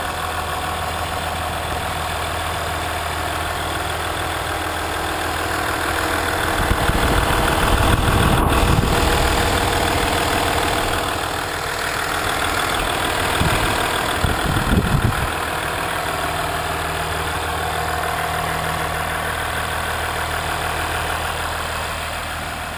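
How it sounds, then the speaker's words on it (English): A 2015 Ram 1500 diesel engine idles steadily with a low, smooth rumble that swells slightly in the middle and then settles again, close by and with no talk over it. "that's a diesel motor running"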